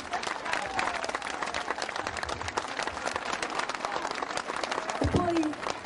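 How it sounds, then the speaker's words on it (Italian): A crowd in the town piazza of Cerignola applauds at an outdoor live concert, steady dense clapping filling the whole stretch, with voices and a few shouts mixed into the ovation. "fate un grandissimo applauso"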